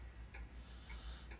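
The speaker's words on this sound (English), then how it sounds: "There's an old pendulum clock." Old pendulum clock in a video game ticking in a steady, regular rhythm, each tick sharp and moderately close against a low background hum, with no voices.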